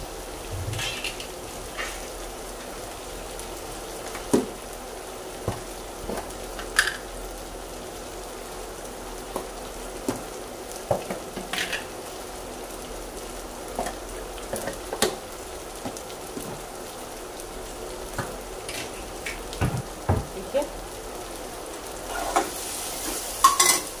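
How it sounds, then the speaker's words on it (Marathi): Tomatoes sauté in a pan for butter paneer, giving a soft steady sizzle with scattered stirring scrapes and spoon clicks that stay close and fairly quiet throughout, with no voices. "टोमॅटो आपल्याला शिजून घ्यायचा आहे"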